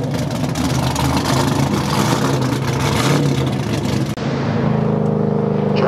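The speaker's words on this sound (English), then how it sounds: "Josh Robinson's in and out in his Holden Ute." A supercharged Holden Commodore Ute runs hard around a drift paddock, its engine a loud, sustained roar close by with rough mechanical texture, easing to a lower steady drone for the last couple of seconds.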